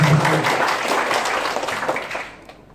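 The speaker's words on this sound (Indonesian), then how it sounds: "Tepuk tangan bagi Yesus." A church congregation at a Jakarta worship service applauds in a dense, loud wash that gradually thins and fades over about three seconds.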